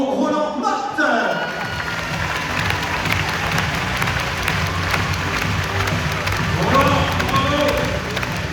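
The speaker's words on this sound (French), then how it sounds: "Un maximum d'applaudissements pour Roland Martin." Crowd applause and cheering at the BBH club's end-of-season ceremony for Roland Martin, a French champion from Finistère, sustained and dense after a voice at the start, with speech-like murmur mixed throughout.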